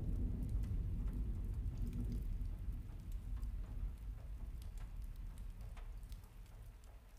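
Steady heavy rain of a thunderstorm pours down in a dense, continuous rumbling wash, with low thunder rolling under the hiss and a few scattered drop ticks, fairly loud and unbroken throughout with no voices.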